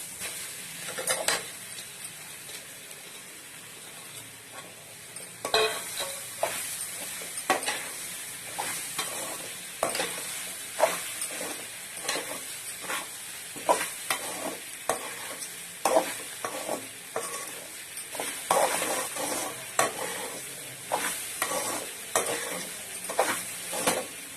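Puffed rice is stirred in a hot pan for pori upma, with a rapid series of spatula scrapes and taps over a light sizzle, steady and close, with no one talking.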